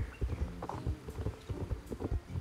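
Hooves clip-clop at a brisk, regular pace while a horse is ridden in the video game Star Stable Online, each step distinct and close, with no talking.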